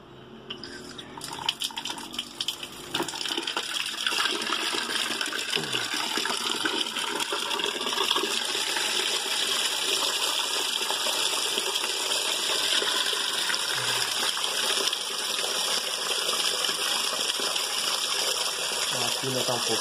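Water gushing from a leaking faucet after the supply valve is opened, a loud steady hissing rush that starts abruptly and continues unbroken, with someone talking now and then over it.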